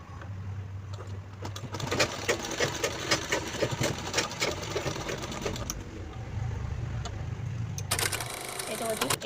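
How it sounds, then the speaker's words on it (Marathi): A sewing machine stitching a handle onto a handbag runs in short bursts of rapid mechanical chatter, fairly faint, with a person speaking in the background. "त्याच्यावरती एक टीप लावून घ्यायची."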